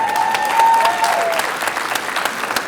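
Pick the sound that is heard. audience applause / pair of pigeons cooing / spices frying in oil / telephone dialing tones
audience applause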